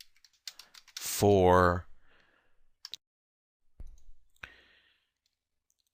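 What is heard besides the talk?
typing code on a computer keyboard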